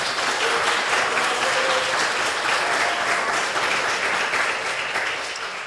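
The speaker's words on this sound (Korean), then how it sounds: "캠퍼스 뒤한테 박수 한번 주세요." A live audience at a public broadcast recording claps steadily in a dense, sustained round of applause that fills the whole stretch and tapers slightly at the end.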